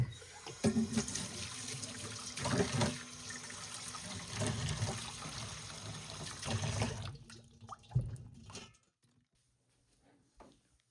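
Water runs into a laundry tub sink, a steady faint splashing rush that cuts off near the end, leaving quiet.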